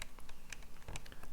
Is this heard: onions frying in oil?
no